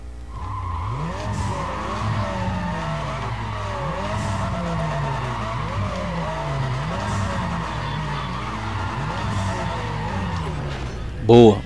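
Tire squeal from a burnout in Need for Speed ProStreet, with engine revving in repeated rising-and-falling cycles, continuous and loud throughout.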